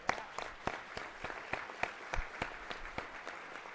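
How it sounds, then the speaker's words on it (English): Sparse applause from a small audience at a keynote talk, about a dozen separate claps spread over a few seconds, fairly quiet with room echo and no voices over it. "Can we give you guys a round of applause?"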